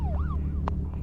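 A wailing siren from a Lamborghini Aventador in a video game, sweeping up and down briefly over a steady low engine drone, fairly faint and with no talk.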